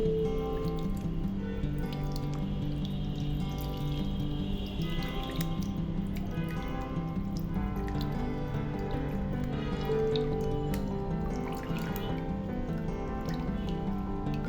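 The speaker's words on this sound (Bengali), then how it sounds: "যেন হাতের সাহায্যে চেপে চেপে পানিটা আমি বের করেছি, সম্পূর্ণ পানিটাই বের করে নিতে হবে।" Water drips and squishes steadily as homemade mozzarella cheese, made without rennet, is squeezed by hand, with a continuous wet trickle running the whole time over soft background music.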